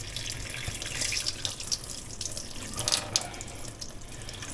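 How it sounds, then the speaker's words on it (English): A hot water tap runs into a sink while a part of a Baja Champ TL-01B is rinsed, giving a steady close hiss and splash with brief louder surges of water, no voices. "I've got the hot water tap running to rinse it off."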